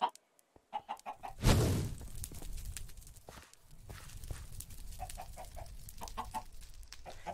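Blocky Minecraft chickens cluck in short repeated bursts during hide and seek, joined by footstep-like scuffs and one louder impact-like burst, all fairly close and moderately loud.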